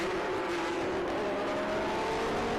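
A field of air-cooled Porsche race cars surges away at a green-flag start, engines roaring loud and continuous with rising revs and a dense, overlapping rumble.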